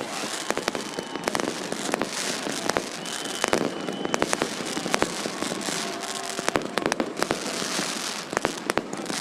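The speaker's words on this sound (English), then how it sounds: "The fireworks going off behind him." Fireworks crackle and pop in rapid, irregular bursts over a steady wash of crowd-like noise at a dirt-track late model race at Eagle Raceway, loud and continuous throughout.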